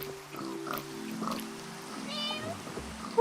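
A cat in the Minecraft video game gives several short meows amid soft game background sounds, moderately loud and close.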